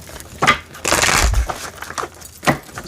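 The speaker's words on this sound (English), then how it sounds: "I'm just going to do a light shuffle." Tarot cards being lightly shuffled by hand, close up, giving a few crisp riffling and rustling bursts with short pauses between them and a low thump in the middle, no speech.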